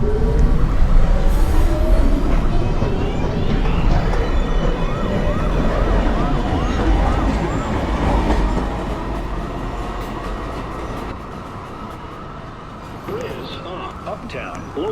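An NYC subway train pulls out of the station, a loud rumbling of wheels and motors with metallic squeals and rising whine, steady throughout alongside station noise and voices.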